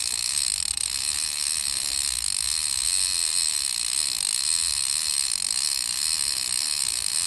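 A fishing reel's ratchet buzzes continuously while a fish is reeled in outdoors, a dense, steady, close clicking whir that runs unbroken throughout with no talk.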